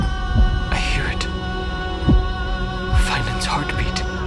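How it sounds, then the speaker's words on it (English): Slow, deep heartbeat thuds in the Honkai Star Rail game world of Amphoreus, a few soft low pulses spaced irregularly under a humming ambient drone, faint and distant, with light airy tones drifting above. "Finland's heartbeat."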